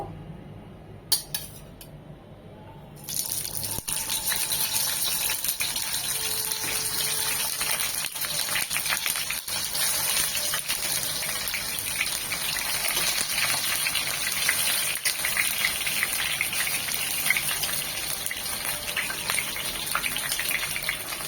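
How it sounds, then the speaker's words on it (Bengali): Noodle pakoras frying in a few spoons of white oil in a pan: after a quiet opening with a few clicks, a sudden steady hiss and crackle sets in and continues loudly with occasional sharp pops. "পাকোড়াগুলো ভাজার জন্য প্যানে সাদা তেল দিয়েছি তিন চার চামচ ডুবু তেলে ভাজবো না এরকম অল্প তেলেই ভেজে নেবো"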